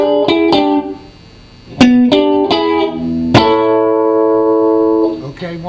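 Electric guitar lick: a quick run of bright picked notes, a brief pause, then more plucked notes ending on a long sustained tone, played alone and close.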